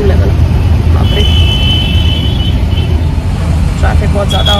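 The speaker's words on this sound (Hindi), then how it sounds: "ट्रैफिक बहुत ज़्यादा हो रहा है बाहर." Heavy road traffic outside, a dense continuous roar of cars and buses with steady low rumble and a brief high horn-like tone, loud and constant beneath talking.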